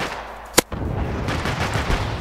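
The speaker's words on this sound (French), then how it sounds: "Ah, j'ai paniqué, j'ai sorti le bazooka." A bazooka fires once in the beach combat game Beached, a single sharp loud blast with a short broadband burst, followed by a steady rumble of game ambience.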